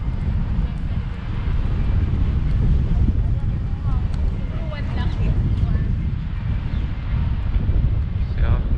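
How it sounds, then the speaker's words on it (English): Steady, loud wind buffets the microphone in St James Park, London, a continuous low roar across the whole stretch, with faint voices and distant city sounds underneath. "It's a bit windy"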